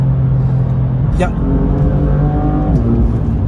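A loud, throaty BMW M3 F80 engine roars and revs close by, pitch rising and shifting, with voices talking underneath.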